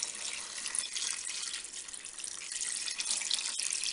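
Water, 1.5 litres, poured into a pot of blended fish heads and bones with parsley for a rice broth, a steady close rushing splash that runs unbroken throughout without speech.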